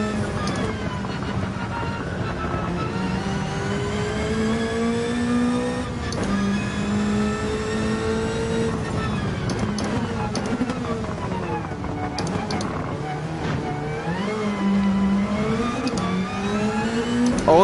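A retro race car engine in the Gran Turismo 7 video game, revving and shifting through gears repeatedly, the pitch rising and dropping with each change, loud and continuous while the car struggles for traction.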